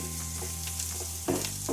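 Carrots and onions sizzle as they sauté in a pan for a vegetable curry, a dense, even frying hiss with a stirring scrape near the end, close and alone.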